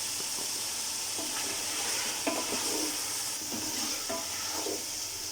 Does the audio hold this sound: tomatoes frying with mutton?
yes